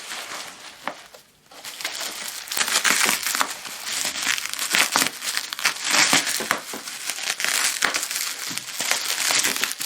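Crinkling and crushing of packing material while a BK 1805 frequency counter is unboxed, a dense stream of close crackles and rustles with one brief pause near the start, no talking.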